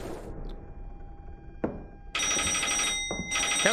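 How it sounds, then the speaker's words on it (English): A telephone rings in the horror video game Palmyra Orphanage, two loud bursts of ringing after a quiet stretch with a couple of dull thumps, close and clear with no talk. "The phone is ringing."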